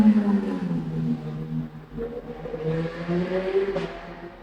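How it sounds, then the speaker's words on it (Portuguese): A motorcycle goes by outdoors, its engine note rising and then fading across a few seconds as a steady rumbling drone, with a faint voice in the background. "passou uma moto"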